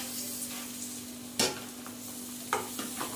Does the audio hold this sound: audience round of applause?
no